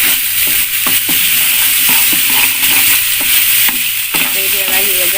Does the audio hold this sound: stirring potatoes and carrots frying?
yes